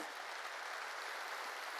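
Congregation applauding during a New Year's Eve church service, a steady dense wash of many hands clapping at moderate level throughout, with no voices standing out.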